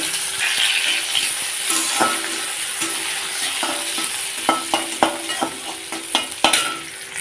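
Chopped onion fries with green chillies and nigella seeds in hot oil, giving a steady sizzling hiss. A spatula taps and scrapes the pan in quick irregular strokes, growing more frequent toward the end.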